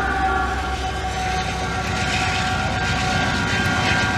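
Loud, constant rumble of a long CP freight train passing close by a level crossing in Beaurepaire, Montreal, a heavy diesel locomotive drone with clattering underneath throughout.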